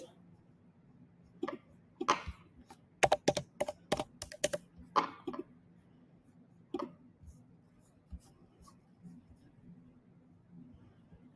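A manager PIN tapped in on a keyboard, with quick clusters of sharp key clicks bunched in the middle and a few scattered taps afterward, close and clear over a faint background hum.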